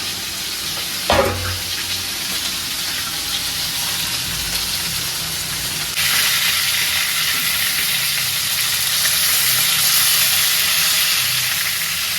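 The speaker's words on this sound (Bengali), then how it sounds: "তেলটা গরম হয়ে গেছে, আর মাছ দিয়ে দিব" Fish coated in turmeric and chili hitting hot oil in a village kitchen, a loud burst of sizzle followed by steady broadband frying that intensifies partway through and keeps crackling with no talk.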